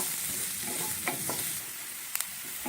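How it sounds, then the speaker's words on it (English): Chopped onion fries in a pan for a milky chicken dish, a steady close hiss with a few soft scrapes and a brief double clink of a utensil stirring it. "give this a stir and cook this for a few minutes until the onion becomes soft and translucent"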